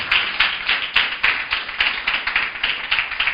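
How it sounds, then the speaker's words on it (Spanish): A church congregation claps in praise during a sermon, with steady rhythmic claps at roughly three per second, fairly quiet and even, with no talking over them. "Aplauda al Señor si va a aplaudir"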